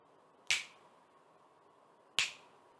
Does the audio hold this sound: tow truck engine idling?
no